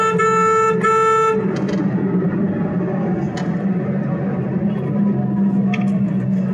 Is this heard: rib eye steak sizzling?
no